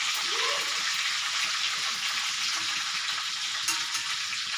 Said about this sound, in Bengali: এই তেলের মধ্যে আমি একটু ঘি দিয়ে দিচ্ছি।